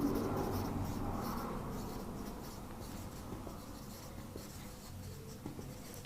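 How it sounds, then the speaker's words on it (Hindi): Chalk or marker scratches across a board during a maths lecture on derived sets, a continuous, close scribbling that fades slightly, heard alone without talk. "मैं यहां पे शॉर्टली लिख देता हूं,"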